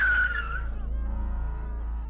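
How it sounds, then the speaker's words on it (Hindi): A car skids hard to a sudden stop, a loud, sharp tire screech that fades into a low rumbling tail, heard alone. "विशाल की गाड़ी तेजी से अशोक वृक्ष के पास आकर रुकी"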